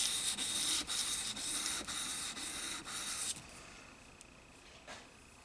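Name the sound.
knife blade sharpened back and forth on sandpaper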